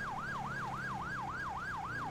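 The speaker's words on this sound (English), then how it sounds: "Put our lights and sirens on." Police siren in the video game GTA 5, a continuous rapid wail rising and falling about three times per second, loud and steady over a low engine hum, with no talk.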